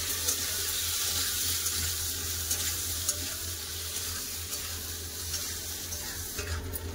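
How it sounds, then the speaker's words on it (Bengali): Potatoes with onions stirred and fried in a pan, a steady near sizzle with a watery hiss and occasional soft stirring scrapes, continuous throughout. "আলুটা একটু ভালো করে নেড়ে নেবো"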